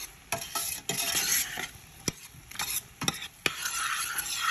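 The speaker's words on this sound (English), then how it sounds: "We're gonna stir all this together" A spoon stirs shrimp pasta with parsley in a hot pan, repeated sharp metal scrapes and knocks over a constant sizzle, close and busy, with no talking.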